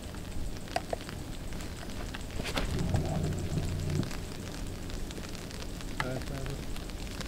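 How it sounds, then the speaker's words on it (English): Rain falls on an outdoor disc golf course during a tournament final round, a steady hiss with scattered drops and faint background noise. "That rain is really starting to fall now."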